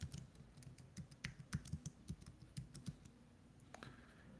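Computer keyboard keys click in quick, uneven bursts close by, with soft, dry, rhythmic taps and short pauses between runs of typing, with no voices.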